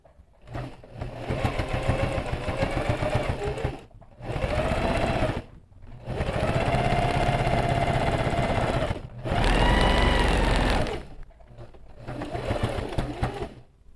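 A sewing machine stitches diagonally through a quilted outer fabric and its lining together, running in several steady whirring bursts separated by brief pauses, close and loud.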